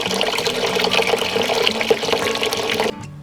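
Hot water runs steadily from a tap into a sink for about three seconds, a loud, close, continuous splashing rush that stops abruptly near the end.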